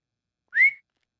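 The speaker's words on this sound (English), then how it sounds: "Loud ass whistle." A single loud whistle, short and bright, with a sharp upward-sliding pitch that lasts about a third of a second, alone against silence.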